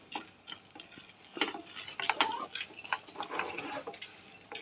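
Roasted gram being dry roasted in a pan, with light clinks and scraping of a spoon against the pan, sharp and close, in an uneven stirring rhythm.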